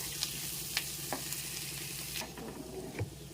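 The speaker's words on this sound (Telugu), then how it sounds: "ఇప్పుడు ఇవి కొంచెం బ్రౌన్ కలర్, గోల్డెన్ కలర్ వచ్చేంత వరకు ఫ్రై చేద్దాం." Onions and crushed garlic fry in a pan, a steady close sizzle with a few sharp stirring clinks and scrapes scattered throughout.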